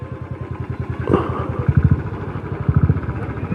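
Motorcycle idling near a police station on the Srinagar–Muzaffarabad highway in Uri, Kashmir: a close, loud, steady thumping idle with an even pulsing beat and a little mechanical clatter, with no talk.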